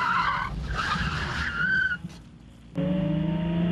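A car braking hard on a track, its tires skidding and squealing loudly for about two seconds, then a brief lull before the engine roars back in a sustained, close, loud run.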